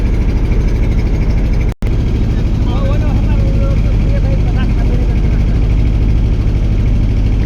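Diesel engines of wooden river trawlers near a broken bridge on the way to Kashimpur bazar throb in a loud, steady low drone that fills the whole stretch, with voices faintly underneath.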